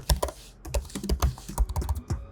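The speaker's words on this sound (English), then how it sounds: "Even the sound when typing with it is attractive." Typing on the keyboard of an M1 Max 16-inch MacBook Pro: a quick, uneven run of soft, close keystroke clicks, steady throughout with no talking.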